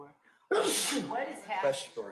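A single sharp, loud sneeze bursts out close by in a courtroom during live trial coverage, briefly followed by a person speaking.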